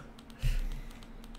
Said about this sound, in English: Listen to the sound of me clicking.